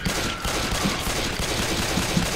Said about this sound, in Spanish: Yo le disparo a todos.